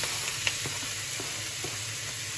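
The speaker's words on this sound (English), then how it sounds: "I'm now going to incorporate this bacon in" Bacon sizzling in a pan with onions and garlic, a steady close frying hiss with a few faint stirring clicks and no talk.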